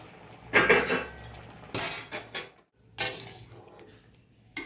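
A metal pot lid clinks and clatters as it is lifted off a pot of lentils simmering with salt and slit green chillies, several sharp close knocks separated by short pauses.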